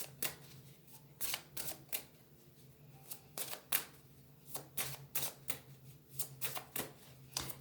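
Oracle cards being shuffled by hand in a quiet room, a series of crisp riffling bursts in irregular rhythm, close and fairly soft, with no talk over them.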